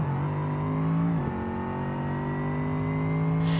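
A Bruckell Moonhawk with nitrous in BeamNG holds a steady, loud engine drone at high revs, with a brief gear change about a second in before pulling on smoothly at full throttle.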